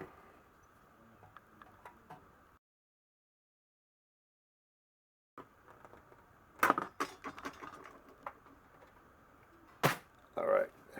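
Sawing through antler to cut out a marked shape for a candlestick: close, uneven scraping and rasping strokes, quiet at first, then a gap of silence, then louder irregular cutting with sharp bursts and clatters.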